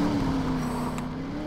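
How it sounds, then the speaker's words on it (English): Dodge Challenger SRT8 engine in the Need for Speed Rivals racing game gives a steady, loud drone at a constant pitch, held throughout without talk. "This car sounds quite nice."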